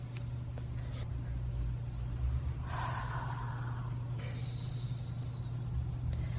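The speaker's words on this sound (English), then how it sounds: "So in order to do this, we want to take a few deep breaths." Deep breaths are taken in a quiet room, a slow audible inhale and exhale standing out faintly over a steady low hum.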